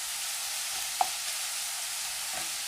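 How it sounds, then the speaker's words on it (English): Beef mince browns in a hot pan with a steady, dense sizzle throughout, broken by a single sharp tap of a spoon against the pan. "We're browning it up nice and quickly."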